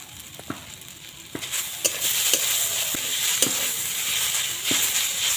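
Grated coconut is stirred in a frying pan over a low flame, with a spoon scraping and tapping the pan in irregular strokes over a continuous soft sizzle.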